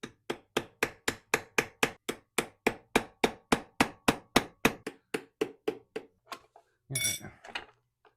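A hammer taps repeatedly on a GY6 scooter engine casing to knock it loose, around twenty sharp metallic strikes in a steady rhythm, close and loud, then a short scraping shuffle near the end.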